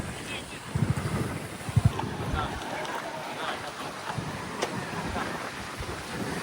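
Rushing water at Kondeshwar waterfall near Badlapur, a steady broadband roar with wind buffeting the microphone, while people talk nearby over it.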